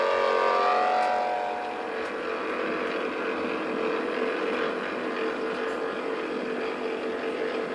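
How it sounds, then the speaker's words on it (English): A racing lobster boat thunders down Jonesport Reach in Maine at a 1994 lobster boat race, its engine a loud sustained roar with a blaring exhaust, steady and unbroken, heard from fairly close with a slight swell at the start. "With a blaring exhaust note and a shower of salt spray, a year's worth of hard work, planning, daydreaming, and strategy thunders down Jonesport Reach."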